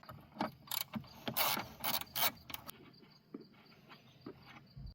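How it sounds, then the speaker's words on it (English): A ratchet removes a 10mm battery tie-down nut on a Chevy Cruze, giving off bursts of quick clicking strokes close by, then quieter scattered clicks. "To do so, we're just going to remove this 10mm nut."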